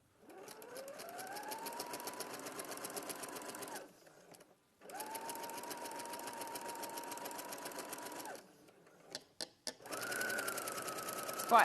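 An overlocker sewing machine whirs up to speed and runs at a steady hum in two long runs with a short pause between, followed by quieter clicks and handling.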